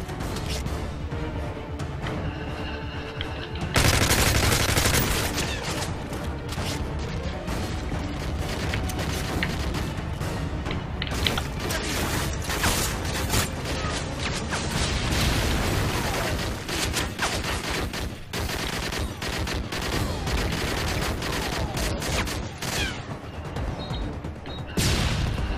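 Sustained AK-47 gunfire and explosions from Call of Duty Modern Warfare 3 Resistance Survival mode, loud and dense throughout with rapid automatic bursts, booms and battle noise, no talking over it.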